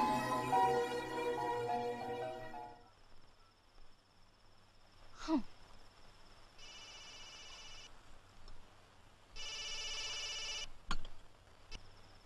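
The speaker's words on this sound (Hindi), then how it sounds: "Come on शिव, फोन तो उठाओ।" A telephone rings in a few steady buzzing bursts with quiet gaps between, after a stretch of music at the start; no talking.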